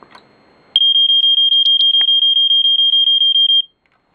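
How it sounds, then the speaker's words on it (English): A Square-D Earli-Gard EGD-5S smoke alarm sounds its test alarm: a loud, piercing tone pulsing rapidly for about three seconds in an even stream of short beeps, then stopping abruptly, with no talk. "As you can hear, it does sort of a fast 5-6 alarm pattern."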